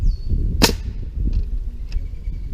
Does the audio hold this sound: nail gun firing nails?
yes